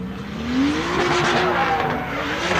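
Drift car number 77 at a drifting competition launching its run, its engine loud and close, rising in pitch as it revs and accelerates, with a faint tire squeal underneath.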